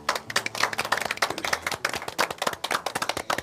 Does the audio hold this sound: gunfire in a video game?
no